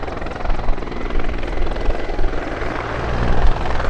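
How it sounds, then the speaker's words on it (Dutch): A Mil Mi-24 Hind attack helicopter of the Czech Air Force flies a display at the Texel airshow, its rotors and turbines a loud, steady roar that fills the whole stretch with no break. "En dat ook een aanvalshelikopter die zeer geducht was."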